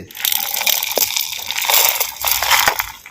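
A mixer grinder grinds roasted spices for urad dal curry with a steady, harsh whir and crunching, rattling grit throughout, holding one continuous level with no talking.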